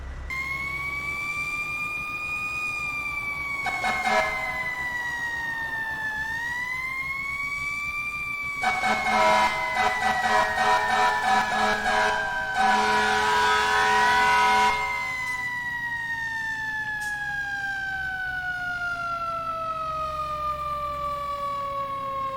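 Fire engine siren in the EmergeNYC firefighting game, a loud wailing tone sweeping up and down continuously, with a burst of rapid yelp and horn blasts in the middle, heard close and without talk.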